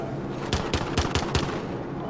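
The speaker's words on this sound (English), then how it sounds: "Who are you shooting at?" Rapid video game gunfire, about five sharp shots in quick succession, loud and close against a constant background of game noise.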